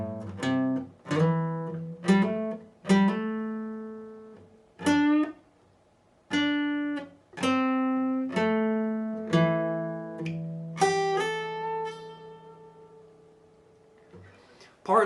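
Electric guitar plays the second part of a song slowly, a string of clear, sustained single notes and double stops picked one after another at an unhurried, even pace, played alone.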